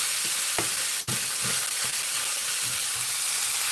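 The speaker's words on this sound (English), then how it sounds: "So the best thing is to fry" Food fries in a pan over high heat, a loud continuous sizzle with scattered stirring clatters and scrapes, close by and alone without talk.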